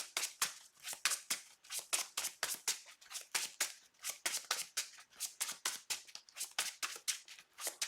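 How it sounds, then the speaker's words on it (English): A deck of game cards being riffle-shuffled over and over, a quick regular run of crisp papery flutters and snaps, close and fairly quiet with no talking. "All right, we shuffle up."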